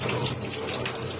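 Tap water runs steadily into a sink while dishes are washed, a continuous close splashing stream with no talk.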